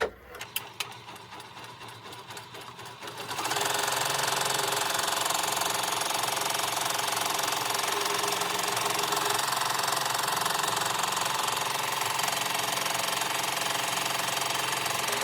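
An embroidery machine stitches an in-the-hoop teacher pencil mug rug. After a few quiet seconds and some clicks it starts up and runs with a loud, steady, rapid mechanical chatter that continues without a break to the end.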